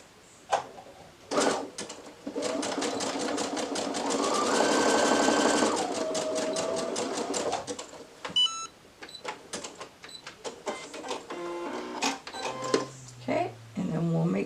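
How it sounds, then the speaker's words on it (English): A home sewing machine runs in a long steady burst, stitching a fabric headband closed, followed by short clicks and stops as the work is adjusted, with light talking at times. "I am just going to do a little stitch on my sewing machine to close that out."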